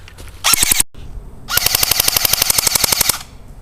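An AGM Sten MKII airsoft submachine gun fires BBs in two loud, rapid full-auto bursts, a short burst and then a longer one, each a fast even mechanical rattle with a brief pause between and no talk.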